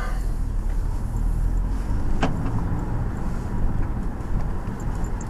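Audi TTS with a modified exhaust cruising in normal drive mode, a low, quiet exhaust and road drone mixed with broadband wind and tire noise, steady throughout with one brief click.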